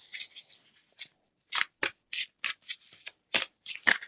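Tarot cards are shuffled by hand in a series of short, crisp riffling bursts, close and distinct, separated by brief pauses.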